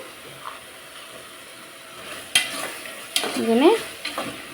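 Masala and cashews fry in a pan, with a soft sizzle under sharp scrapes and clinks of a stirring spoon that grow busier toward the end.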